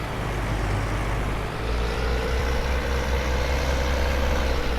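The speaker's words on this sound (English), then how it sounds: "That's a nice engine sound to it." Modded vehicle engine with a European Union licence plate in Farming Simulator 19, idling at a steady, loud low drone with no change in pace, heard on its own.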